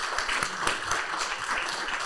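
Brief applause from an audience after a talk, a steady wash of clapping lasting a couple of seconds at moderate volume.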